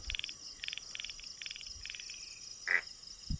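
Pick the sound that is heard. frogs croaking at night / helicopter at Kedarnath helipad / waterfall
frogs croaking at night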